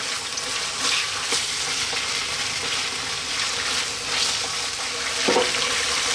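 Chicken frying in a pan on medium heat gives a steady, dense sizzle with faint crackles and a small clink of utensils, with no speech over it.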